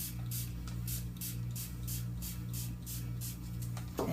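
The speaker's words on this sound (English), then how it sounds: "good old spray. Get the bubbles out." Repeated short hissing spritzes from a spray bottle over freshly poured melted soap, about eight bursts in steady rhythm over a low background hum.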